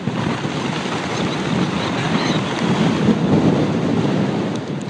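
Strong, steady wind buffets the microphone on an exposed trail on Mt. Baldy (Mt. San Antonio), a continuous loud roar with no speech.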